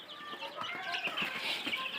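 One-month-old Sonali chicken chicks cheep and cluck in a quick, overlapping flurry, close by but fairly quiet.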